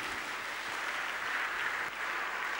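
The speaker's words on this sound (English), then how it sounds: "Give the Lord a good clap of praise" A church congregation claps in praise during worship, a steady, even wash of many hands clapping together at moderate volume with no talk over it.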